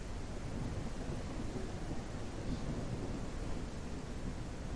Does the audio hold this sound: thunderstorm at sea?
yes